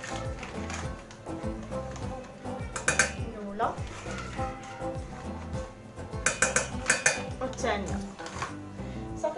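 A spoon mixing pastry cream in a bowl or pot, clinking and scraping against the dish in irregular bursts, with a voice speaking alongside.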